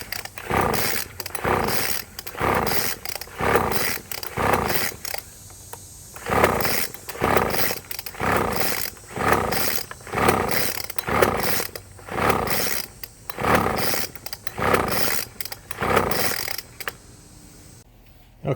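A Craftsman 25cc handheld leaf blower with a two-stroke engine, a bad ignition coil and a loose cylinder head, fires up and runs roughly. Its buzzing engine note surges and drops in a steady, rhythmic pulse, loud and close.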